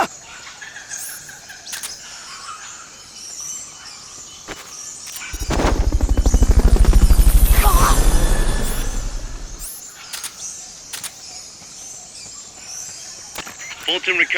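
Fulton recovery helicopter in Metal Gear Solid: Peace Walker, a loud thumping rotor swelling in and passing close for several seconds over a background of birds and insects, then fading away.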